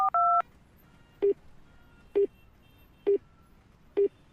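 Phone dialing tones on a failed call to a cottage caretaker: a short double tone, then four evenly spaced single beeps about a second apart, clear and alone over a faint hiss.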